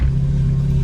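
Porsche GT4 with a Stage 2 tune and Fabspeed GT450 race package, its engine running loud and close in a steady low rumble just as it is shut off.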